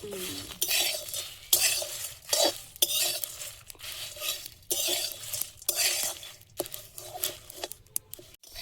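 Fennel, cumin and bay leaf dry-frying in a pan, stirred with a utensil in a steady rhythm of scraping bursts and faint crackles, close by with no voices.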